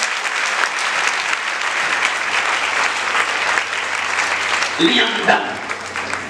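A church congregation at a Holy Spirit service applauds steadily throughout, dense clapping filling the space while a preacher speaks over it, with a louder burst of voice near the end.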